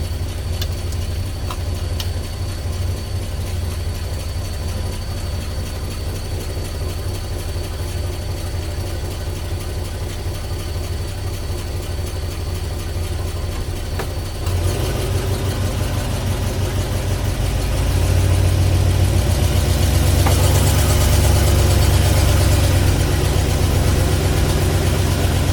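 A 1958 Studebaker Commander engine runs steadily at idle, its low rumble growing louder and rougher partway through as the revs rise, then holding at a fuller, busier drone to the end, close by with no talking.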